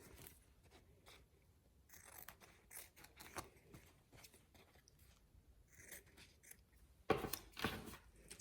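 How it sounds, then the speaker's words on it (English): Scissors snipping the corners of a bling fabric surgical mask cover, a few faint, scattered close cuts and rustles in a quiet room, ending with a sharper crunch. "So I'm just going to trim a little bit, just in the corners."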